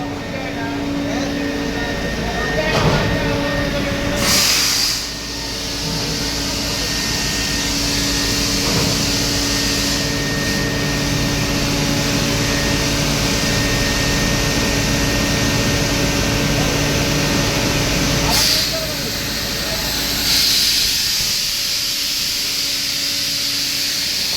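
Air system of a Normet mining machine being adjusted, a loud continuous hiss and roar with a few sharp bursts of air, close by, with speech heard over it.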